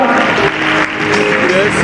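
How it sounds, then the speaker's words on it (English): A crowd clapping for Sierra Leone at a peace celebration, a loud, dense burst of applause lasting under two seconds, mixed with cheering voices. "You need to clap for that."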